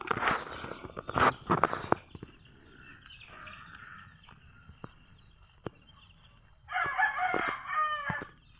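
Pet chickens and roosters in a ranging area: a loud nearby crow near the end with a fainter crow earlier, scattered clucks, footsteps and sharp scuffing clicks, no talking.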